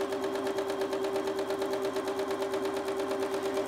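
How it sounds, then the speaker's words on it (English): A sewing machine runs a straight line of stitching down quilt squares: a steady, fast rhythmic whir with a constant motor tone, close and alone. "we're just going to sew straight down"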